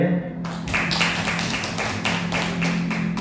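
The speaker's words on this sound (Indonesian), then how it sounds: "Mari kita sambut dengan tepuk tangan yang mulia." Audience clapping at an Indonesian teacher-training presentation as a speaker is welcomed: a steady patter of hand claps over a low hum that runs throughout the clip.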